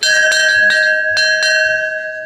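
A notification-style bell chime rings out several clear, sustained tones in quick succession, each strike bright and resonant with long ringing overtones that decay slowly, alone with no voices.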